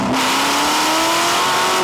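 Engine of a 1966 Ford GT40 race car revving hard with a rising, sustained roar as it shoots exhaust flames, loud and close with no talking.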